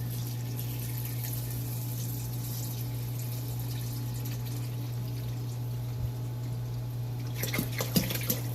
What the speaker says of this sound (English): now I'm going to add a gallon of bottled water here